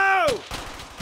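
Squad gunfire on an enemy position in the WWII shooter Brothers in Arms: Hell's Highway: a falling whistling tone cuts into a sharp shot, followed by a few more scattered, close reports.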